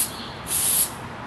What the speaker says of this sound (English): we're going to want to spray it onto the back of the foam core board